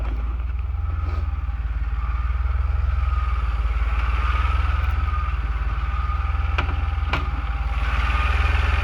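A DeLorean car engine running just after starting on a cool day, a steady loud low rumble close by with a few faint clicks over the idle.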